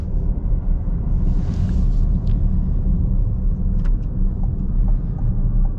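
A 2024 Chevy Blazer EV drives along a road, heard from inside as a steady low rumble of road and tire noise with a faint thump as it passes over a bump.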